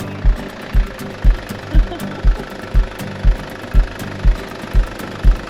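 A car engine runs after an injector repair, idling with a rough, heavy pulse roughly twice per second. Loud and close, with a metallic knock on each beat over a constant rumble.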